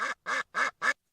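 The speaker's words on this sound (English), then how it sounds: "They'd be angry as this duck over here." Four loud, evenly spaced nasal quacks from an angry duck, each harsh burst about a tenth of a second long, close to the listener with brief silences between them.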